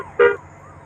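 A KSRTC bus horn in the driving game Bus Simulator Indonesia gives a single short, bright toot, standing alone over a low engine hum.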